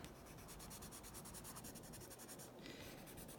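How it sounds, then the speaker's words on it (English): Steady scratchy scribbling of colored pencil on paper, close and continuous, with quick back-and-forth strokes and no voices. "And just adding some more scribbles."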